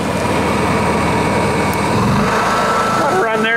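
A Honda EU7000is generator runs at a steady close hum with a brief surge in engine pitch partway through, and someone speaks over it near the end.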